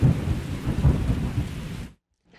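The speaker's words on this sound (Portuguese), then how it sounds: "A natureza, através dos seus fenômenos, transmite muitos sons, como as chuvas, os relâmpagos, os trovões e o vento." Rain pours steadily with deep thunder rumbling through a storm, loud and close for about two seconds before cutting off abruptly.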